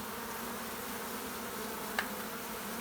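Bees buzz steadily around someone outdoors, a continuous near drone filling the whole stretch with one brief closer pass near the end.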